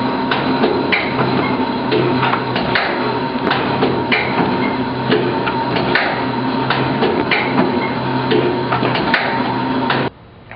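A cutting machine running on a split piston and cutting two pieces at once, oil-operated, gives off a steady broadband mechanical roar with repeated sharp clacks and ticks throughout, then stops abruptly near the end.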